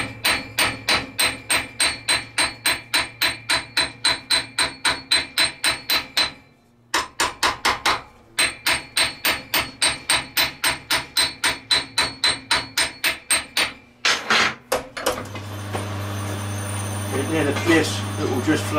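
A steel planishing hammer pounds thick copper while flanging a boiler plate, delivering rapid steady blows in long runs with brief pauses, loud and close, ending in a different rougher clatter.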